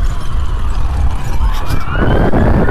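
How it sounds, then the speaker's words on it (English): Fire truck sirens wail with rising, sweeping tones over a loud, steady low rumble of traffic and wind, growing more prominent toward the end, outdoors at night in Kinston. "There we go, there's some fire trucks."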